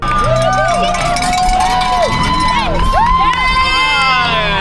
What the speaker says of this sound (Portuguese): Então lá você consegue ouvir o grito das universitárias